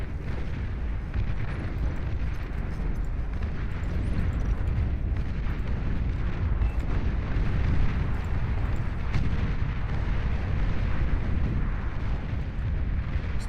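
Cannons in a video game fire at units, producing a dense, continuous rumble of overlapping booms and low blasts that stays loud and sustained.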